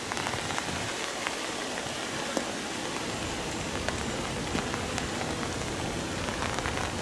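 Steady rain falling outdoors near a beehive entrance on a wet day, a continuous even patter of drops with occasional sharper drip ticks, no voices.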